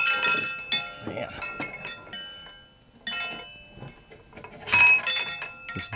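A heavy wind chime rings in several bursts of bright, sustained metallic tones that overlap and decay, some louder strikes near the end, with a person talking quietly between the rings.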